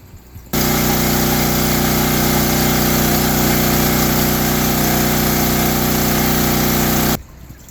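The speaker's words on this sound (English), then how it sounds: "We're running on generator power." A backup generator engine running during a power outage, a loud steady mechanical drone with a constant hum, starting abruptly and cutting off after about seven seconds, close by.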